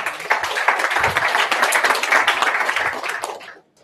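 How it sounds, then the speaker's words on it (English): Audience applause greets a speaker coming up at a 2015 retail trends event, a steady round of clapping that holds for a few seconds and then stops abruptly. "Round of applause for Richard, please."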